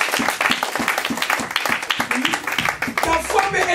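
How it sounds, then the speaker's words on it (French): A church congregation claps along throughout a French-language evangelical sermon, with steady overlapping applause running under the preacher's voice. "Acclamez Jésus."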